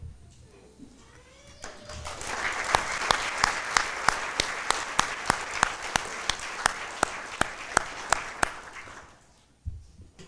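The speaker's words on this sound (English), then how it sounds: "we'd like to give you a round of applause as well" A gathering honoring chaplains and the Richland peer support team applauds in a steady, rhythmic unison clap, sharp even beats repeating for several seconds before trailing off abruptly.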